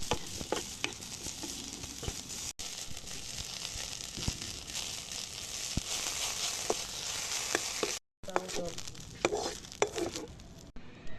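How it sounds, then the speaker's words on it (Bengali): Onion, garlic and ginger paste fry in a pan for a Bengali bharta, with a steady close sizzle, scattered crackles and stirring scrapes running throughout and a brief pause near the end. "ভর্তার জন্য পেঁয়াজ এবং রসুন, আদা বাটা ভাজা করে নিব।"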